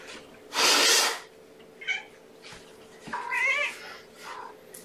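Kittens meowing in several short, separate calls: one loud, long cry near the start, then quieter, shorter mews with a rising-falling wavering one midway, with faint background hum between.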